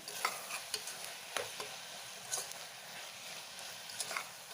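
Onions with ginger garlic paste are stirred in a pan for mutton curry, with a soft, steady sizzle under repeated light clicks and scrapes of the spoon, fairly quiet and close.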